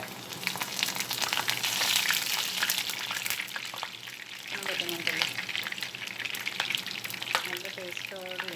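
Okra fries in a pan with a dense, continuous sizzle and crackle throughout, stirred now and then, loud and close with no voices.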